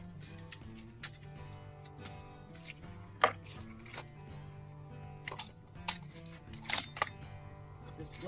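Crisp clicks from a Vortex Diamondback Tactical first focal plane riflescope turret being adjusted, a handful of sharp separate ticks over a faint steady hum, close and fairly quiet.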